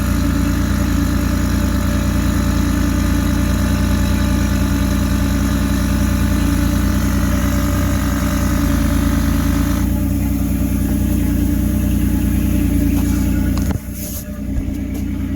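Air suspension compressor on a 2006 Chevy Uplander wheelchair van runs steadily to raise the rear air shocks, a loud continuous motor drone that cuts off near the end.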